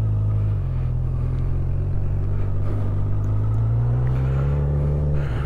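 A Honda CB1000R Black Edition motorcycle pulls away with a deep, close engine rumble that steadies, then climbs in pitch as it accelerates, loud and continuous with no talk.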